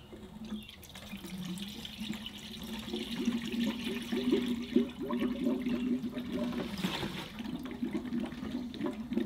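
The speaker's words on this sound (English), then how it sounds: "And it's still gurgling, so that's a good sign." Gurgling, rushing water from a John Deere 1050 tractor engine with water in its oil: a continuous close bubbling flow with a louder surge partway through, alone with no talk.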